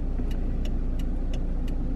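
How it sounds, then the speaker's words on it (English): A steady stream of cars rolls into a crowded beach parking lot, engines humming low and continuous at moderate distance, with faint brief ticks recurring regularly over the drone. "Look at all these cars pouring in."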